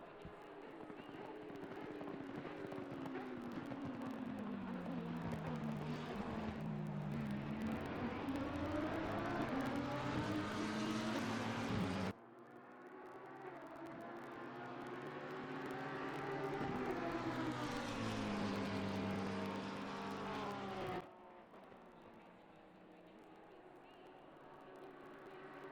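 Race cars in Assetto Corsa Competizione roar around Monza during an endurance race, engines climbing through the gears and dropping on downshifts, loud and sustained with abrupt cuts between passes.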